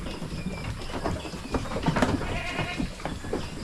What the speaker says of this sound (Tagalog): Yan po yung mga kambing natin.